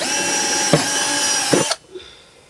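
Power drill boring holes in a tomato pot, a loud close whine running for nearly two seconds with two brief grinding bites as the bit cuts, then stopping abruptly into quiet.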